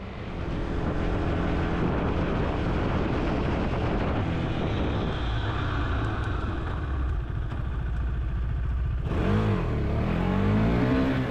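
A Husqvarna Svartpilen 401 motorcycle being ridden, its engine droning loud and steady with wind roar, then rising in pitch as it accelerates near the end.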